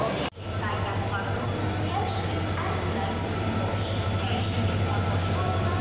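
The Howrah–Secunderabad superfast AC express pulls into a station platform, a steady low rumble and rolling hum of the train with faint high squeals over ambient station noise and murmuring voices.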